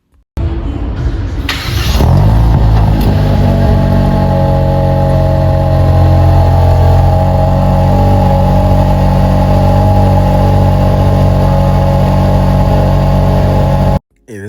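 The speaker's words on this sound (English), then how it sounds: "most Chinese cars don't sound great when it comes to the exhaust, but this one," A 2025 GAC GS3 Emzoom R-Style revs hard after a brief quiet start, its engine and exhaust roaring loud and steady for about twelve seconds with a rising burst near the beginning, then cutting off abruptly.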